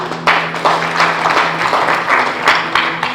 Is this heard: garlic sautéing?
no